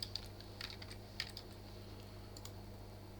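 Keys on a computer keyboard clatter in a few light, irregular taps at a quiet desk, soft and close with no talking.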